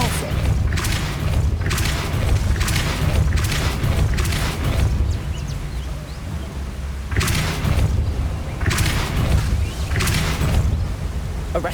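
Spell-casting blasts from Hogwarts Legacy, a series of repeated booming thuds and whooshing bursts in quick succession, loud and close, with a pause before another flurry of impacts over a low rumbling game soundscape.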